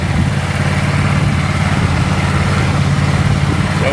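SST 16 garden tractor engine running during a ride without the mower deck, a loud, close, steady low rumble with a throbbing pulse throughout.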